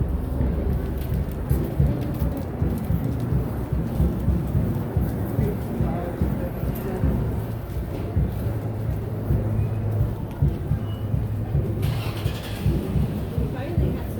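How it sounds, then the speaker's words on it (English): Steady rain falling on a street in the New Orleans French Quarter, a constant loud patter and wash with traffic rumbling underneath while people talk over it throughout. "We finally had some rain."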